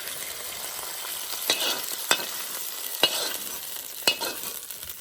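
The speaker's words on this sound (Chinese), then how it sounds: "煎鱼啊，油就是要的多一点" Crucian carp sizzling in plenty of hot oil in a large pot, a steady crackling fry punctuated by several sharp spatters and pops, close and alone without talk.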